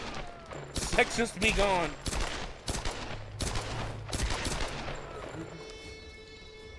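Rapid bursts of video game gunfire from the 2013 Tomb Raider reboot, loud clustered shots and fusillades in quick succession with a trailing ring, while someone talks over the action.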